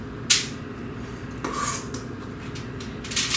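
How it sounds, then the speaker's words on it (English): A utensil scrapes and clinks against a foil-lined pan while a peanut butter mixture is spread around its bottom, with a sharp tap near the start and softer scraping strokes after. "I'm going to spread it around the bottom of the pan"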